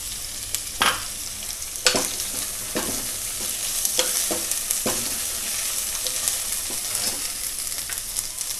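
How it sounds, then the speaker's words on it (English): Onions and green chilies fry in a pan for gongura mutton. A steady sizzle runs throughout, broken by several sharp clinks and scrapes of a stirring spoon. No one talks. "Fry it along with the onions till it gets golden brown color. Now add green chilies,"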